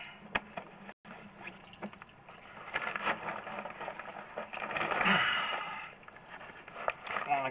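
Water runs through pipes on a residential property, a gurgling, splashing flow that swells toward the middle and then eases, with faint speech and scattered handling clicks around it.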